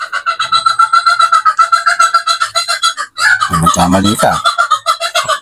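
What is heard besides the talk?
chickens clucking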